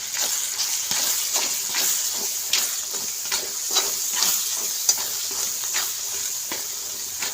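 Masala frying in a pan as red chilli powder is stirred in for an eggplant and bean mixed vegetable dish: bright constant sizzling hiss with frequent quick spatula scrapes and taps, close and loud, no talking.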